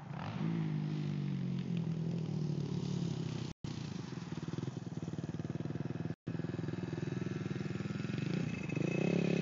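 A small motorbike ridden by a young child buzzes steadily up a hill, engine droning close and continuous with a brief rise in pitch toward the end.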